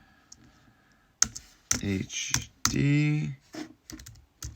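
Keys click on a computer keyboard while a drive name is typed during an iMac external SSD upgrade, with short bursts of tapping set among a man's speech.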